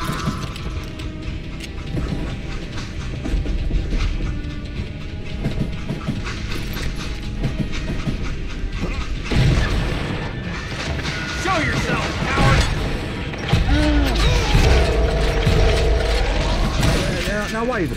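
A train in the Call of Juarez Gunslinger video game rumbles along with mechanical clatter and ratcheting metal, then grinds through a long screeching squeal as it brakes, the noise steady and loud throughout.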